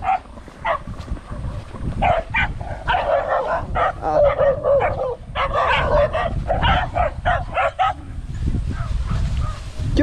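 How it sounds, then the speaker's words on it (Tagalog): Close, loud, irregular barking and yipping from a visiting dog, with short whiny cries mixed in against an outdoor background. "May dumadayo pong aso"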